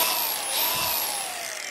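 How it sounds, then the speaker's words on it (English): A Milwaukee power tool grinding metal parts during a Nissan D21 Hardbody mini truck build, a loud continuous high whine that bends slightly in pitch, close and alone. "I got the old Milwaukee out. So, let's grind some things."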